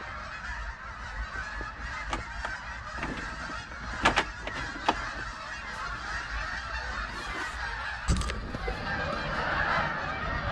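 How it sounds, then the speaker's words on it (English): Many geese honking together in a noisy flock, overlapping calls with a few louder sharp honks standing out. "That's a lot of geese."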